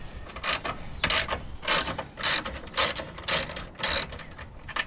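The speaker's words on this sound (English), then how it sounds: "we're going to start first by loosening the bolts" Rapid ratchet clicking in about seven steady bursts as a ratchet loosens the battery terminal bolts on an 11th-generation 2014–2019 Toyota Corolla, close and clear with no talk.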